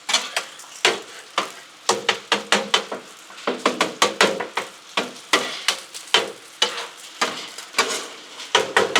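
Six eggs fry on a Blackstone griddle in LumberJack seasoning with sausage and bacon grease, a steady close sizzle broken by quick rhythmic spatula scrapes and clicks throughout.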